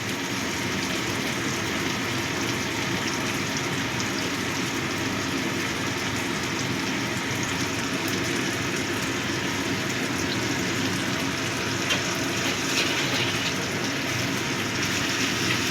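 Ginger-cumin paste sizzles and spatters steadily in a hot pan while it is stirred for chana masala, a dense even hiss that runs on without a break.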